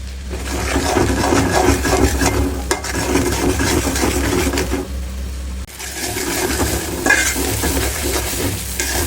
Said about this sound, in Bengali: এখন দিয়া লেমু হলুদের গুঁড়া, তারপরে দিমু মরিচের গুঁড়া, পরিমাণ মতো লবণ দিয়ে আর একটু সময় তেলের মধ্যে সবটা ভাজা লেমু।